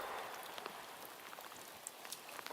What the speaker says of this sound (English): We're out in the rain right now, and you can see it.